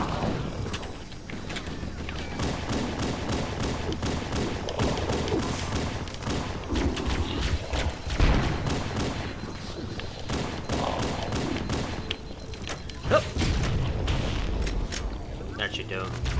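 Rapid magnum pistol shots ring out amid dense Halo 1 combat, with a steady barrage of gunfire and explosions against a loud layered game score, and a player talking over the action.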